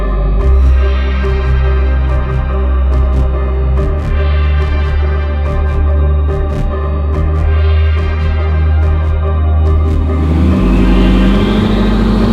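Bugatti Veyron engine revving through a newly fitted exhaust, a loud steady low rumble with short throttle blips, rising in pitch near the end as the revs climb.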